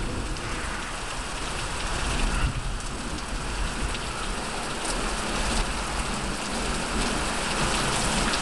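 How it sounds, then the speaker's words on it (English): Heavy rain pours steadily during a thunderstorm in Chippewa County, Michigan, near a back porch, a dense, loud, continuous hiss of drops striking surfaces with no break and no voices. "This hill is really raining pretty strong."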